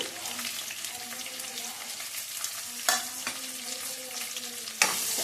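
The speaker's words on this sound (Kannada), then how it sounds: "ಒಂದು ಈರುಳ್ಳಿ ಸಣ್ಣ ಕಟ್ ಮಾಡ್ಕೊಂಡಿದ್ದೀನಿ ಈರುಳ್ಳಿ ಹಾಕ್ಕೊತಾ ಇದ್ದೀನಿ" Finely chopped onions fry with cumin seeds in a pan, giving a bright, steady crackling sizzle up close, with occasional spoon scrapes and a couple of louder stirring knocks.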